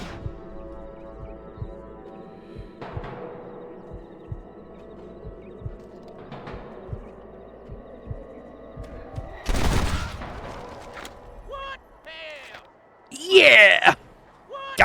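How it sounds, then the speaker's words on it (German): A burst of gunfire from the Western video game Red Dead Redemption on PC: a loud volley of several sharp shots, a second cluster near the end, with a distant bird call and game ambience between. "Wir haben ihm die Waffe von der Hand geschossen."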